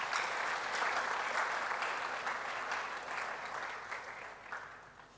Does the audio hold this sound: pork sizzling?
no